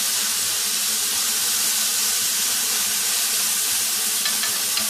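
A flipped and pressed steak sizzles in a hot pan, a loud, steady, close hiss that holds unbroken throughout, with no talking.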